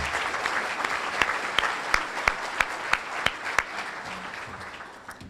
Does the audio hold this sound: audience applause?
yes